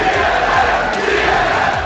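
Crowd booing at an esports championship, the League of Legends Season 3 World Championship, aimed at a team playing against the home crowd: a dense, loud, continuous roar of many voices filling the whole two seconds.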